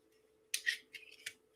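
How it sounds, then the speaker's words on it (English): Scissors on a multitool opening and snipping in three or four quick metallic bursts, close and fairly quiet, with a steady low hum underneath. "It's got big scissors, just like the Surge does."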